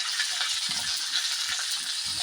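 Mustard seeds crackle and sizzle in hot oil for a chutney made with sixteen ingredients, a steady bright frying hiss with small pops, close and continuous without talk.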